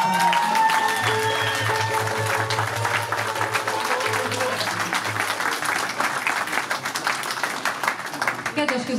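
Applause from an audience at a village harvest parade and festivity in Érsekcsanád, continuous dense clapping throughout with a low music or crowd hum underneath and voices mixed in.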